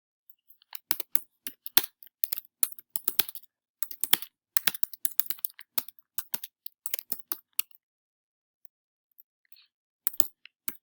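A computer keyboard clatters in quick, irregular bursts of close keystrokes, then falls quiet before a last short flurry near the end.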